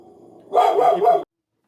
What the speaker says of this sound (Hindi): थोड़ा साउंड आ रहा है, मेरे डॉगी वगैरह हैं, ये लोग बोल रहे हैं इसमें।